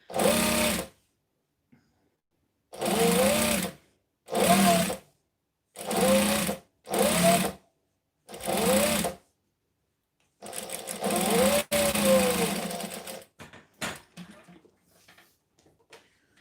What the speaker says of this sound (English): So this is my serger right here.